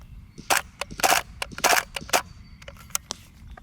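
A BCM gas blowback airsoft rifle fires several quick bursts of sharp cracks with short gaps between them, close and loud, followed by a few scattered single shots, with no talking.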